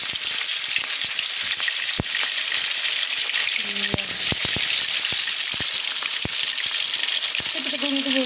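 Fish frying in hot oil makes a loud, steady, close sizzle with scattered crackles and pops, and brief faint clinks come through partway.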